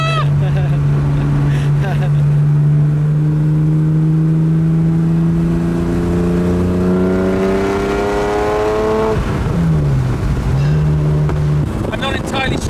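Straight-six engine car revving hard, a loud close engine note climbing steadily in pitch for several seconds, then dropping sharply and settling into a lower rev before rising again.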